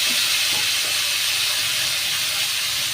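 Potatoes, papaya and banana sizzle in hot oil in a pan, a steady bright hiss that runs unbroken with no talk.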